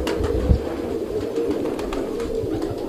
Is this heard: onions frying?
no